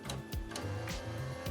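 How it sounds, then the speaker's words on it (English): An Epson WF-C579R printer's vacuum pump runs during initial setup, drawing clear test gel out of the ink tubes: a close, steady mechanical whir with rhythmic clicks and pulses repeating about every half second. "That is the vacuum pump,"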